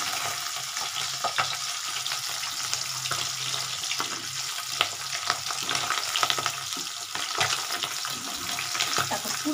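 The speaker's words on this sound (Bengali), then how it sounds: "আরামসে ভাজছি আমি" Tangra fish sizzles steadily in hot oil in a pan over a gas flame, a dense continuous crackle with occasional louder pops, close and even throughout.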